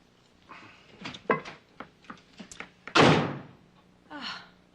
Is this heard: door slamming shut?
yes